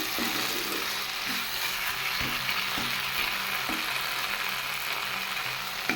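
Fish and spices fry in a pan for a Bengali lote fish jhuri: a steady, dense sizzle with faint scraping stir clicks, close and constant, with no talking.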